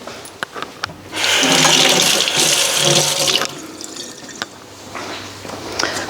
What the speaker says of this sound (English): I'll just rinse the knife.